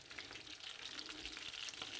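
Trout fillets dusted in flour sizzle steadily in a hot frying pan, a dense continuous crackle and hiss at close range with no talk over it.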